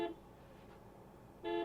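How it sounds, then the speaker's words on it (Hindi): A Tata Harrier SUV sounds two short, bright honks of its overly sensitive horn, one at the start and one near the end, with a quiet pause between them. "बहुत ही सेंसिटिव हो गया इसका हॉर्न"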